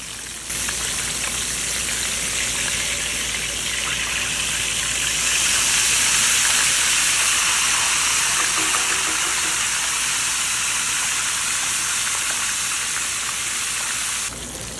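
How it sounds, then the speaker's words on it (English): Soft shell crabs frying in hot oil, a loud, continuous hissing sizzle that holds steady for the whole stretch and swells slightly midway, with no talking. "Frying takes roughly about 2 to 3 minutes per side"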